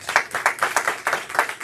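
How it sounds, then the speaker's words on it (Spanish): A small church congregation claps in a quick, even rhythm, close and fairly loud, with no talking. "Un aplauso para ellos."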